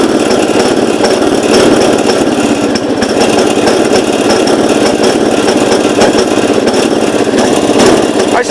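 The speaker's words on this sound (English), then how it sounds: "Choke does seem to help, but it acts like it's stuttering." A 1970 all-white Gravely 408 tractor engine with suspected spark problems runs loud and close under choke, its rough chugging broken by irregular stutters and misfires.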